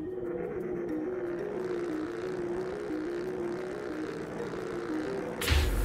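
A hovering drone in Marvel's Spider-Man Remastered, a steady droning buzz with a wavering pitch that holds throughout and ends in a sudden louder burst.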